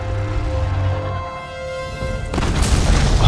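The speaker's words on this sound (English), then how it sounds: "That's gonna proc an explosion within him." A deep, loud boom erupts partway through after a sustained tonal hum, an explosion in the God of War video game, with rumbling noise continuing to the end.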